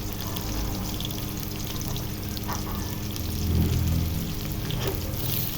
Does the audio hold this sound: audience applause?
no